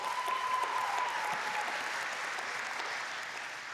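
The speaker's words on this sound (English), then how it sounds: "They clap for my tip." Audience at a Tableau tips session applauding, a soft, distant, even patter of many hands sustained throughout with a faint tone near the start.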